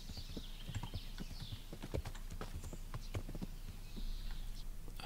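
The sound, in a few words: horse hooves clip-clopping, from video game Kingdom Come Deliverance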